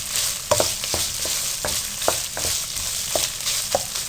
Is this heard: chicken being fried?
yes